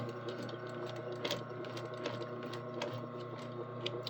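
A sewing machine's handwheel is turned slowly by hand to back-stitch a topstitched fold, giving a continuous run of soft mechanical clicks and ratcheting ticks at close range.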